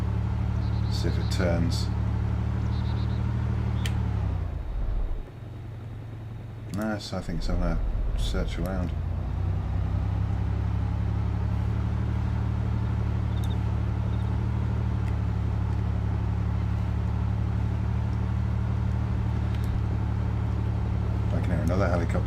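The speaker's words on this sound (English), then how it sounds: "I'm driving a car" Car engine in the video game DayZ, a steady low drone running nearly throughout at close range, with a brief dip partway, under ongoing talk.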